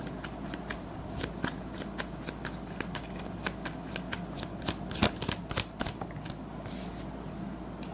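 Tarot cards riffled and shuffled by hand at close range, a soft continuous run of quiet flicks and papery snaps that peak in a brief burst of louder slaps near the middle.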